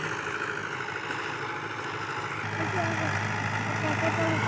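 A Fiat 640 tractor, rated 85 HP, runs with a steady, rumbling diesel drone throughout, holding an even level with faint voices over it.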